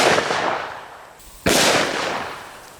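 A 500 Smith & Wesson Magnum Performance Center revolver with a 10.5-inch barrel fires a 700 grain hard cast round in one loud, sharp blast that rings out and decays over a second or two, following the fading tail of an earlier shot.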